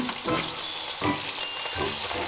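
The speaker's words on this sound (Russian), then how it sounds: "со всех сторон мы его обжариваем, чтобы у нас такая корочка коричневая" Elk meat sears in a hot pan, a close, steady sizzle and crackle with slight swells as the pieces are turned, no voices over it.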